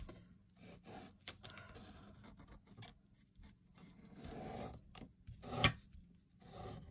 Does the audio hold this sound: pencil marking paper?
yes